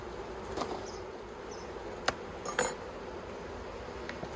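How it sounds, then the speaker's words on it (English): Honey bees in the top box of an Australian hive hum softly and steadily, with a few clicks and light knocks from handling the box. "The bees seem pretty calm up in this top box as well."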